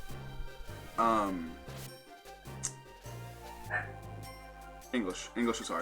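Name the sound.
dog barking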